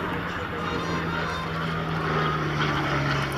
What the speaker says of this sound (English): And right on his tail is the P-40 Warhawk.